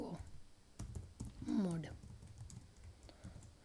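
Quick clicks of a computer keyboard as PHP code is written, soft and close in an irregular run of taps, with faint talking underneath.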